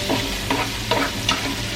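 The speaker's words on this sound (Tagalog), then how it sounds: "Lulutuin lang po natin itong ating sibuyas, itong ating onion" Chopped onion sizzles in a hot pan while being stirred, with a steady frying hiss and four or five soft scraping strokes at an even pace, close and moderately quiet.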